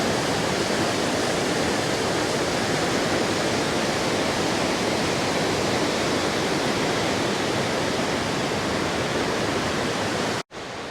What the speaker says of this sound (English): a lot of water piling over here.